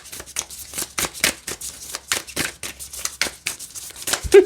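Labyrinth Tarot cards are shuffled by hand, close and quiet, in a run of quick papery riffles and soft slaps, with short pauses between the bursts.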